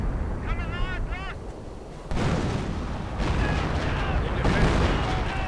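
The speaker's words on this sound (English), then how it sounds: "And that's officer artillery for you" Officer-called artillery strike in a World War II strategy game: heavy booming impacts and rumbling blasts that thicken after a brief lull, loud and continuous, with faint bird-like chirps early on.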